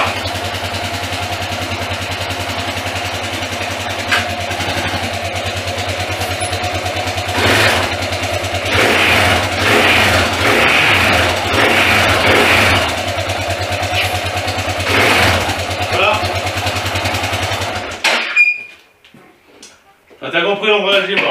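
A Yamaha XTZ 660 Ténéré motorcycle with a burnt-out dead clutch runs at a close, steady single-cylinder idle, with bursts of revving and someone talking over it, before the engine cuts off and a few faint sounds follow.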